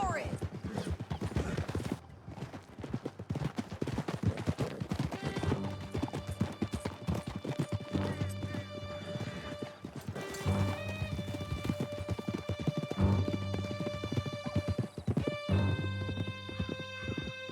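Horses galloping hard in a Red Dead Redemption 2 canyon chase, a dense clattering hoofbeat rhythm with neighing, under a loud sustained musical score and occasional shouted voices.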